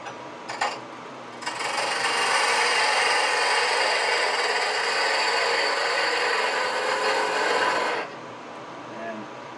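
A cutting tool scrapes against a spinning piece of wood on a wood lathe, shaping the top of a wooden acorn. The dense, rasping grind starts after a short pause, holds steady for several seconds, then stops.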